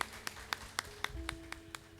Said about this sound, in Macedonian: Ајде јака аплауз за пењаче Хеленаче.